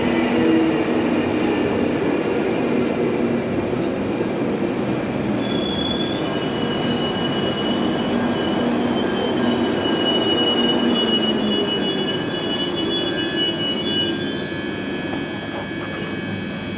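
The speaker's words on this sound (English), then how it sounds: "Here we've got an Edgware train." A London Underground Northern Line train bound for Edgware runs through Colindale station, a loud, sustained rumble of wheels on rail with high squealing tones drifting above it and easing slightly toward the end.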